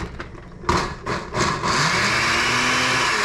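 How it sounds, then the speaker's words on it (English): A kitchen blender whirs and strains against pine nuts stuck at the bottom while making pesto for chicken pesto pasta, starting in short bursts and then settling into a steady, loud grinding whine. "That blender, terrible."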